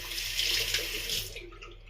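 A shaving brush is rinsed under a running tap, a steady close rush of water splashing into a sink that tapers off near the end.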